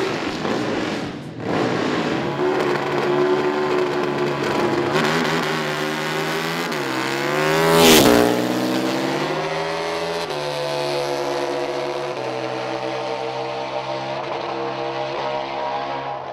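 Drag racing motorcycles, a big bike against a Japanese bike, run a final at Sydney Dragway. Loud, climbing engine wails sweep up in pitch and peak as the bikes pass close, then fade into a lower drone.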